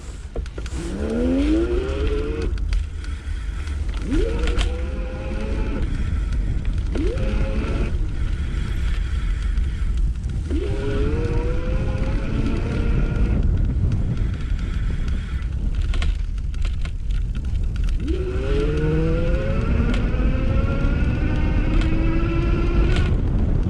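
An iGO Electric Core Elite II e-bike pulls away on level 3 pedal assist. Its motor whine climbs in pitch several times in rising sweeps, over steady wind rush and road noise.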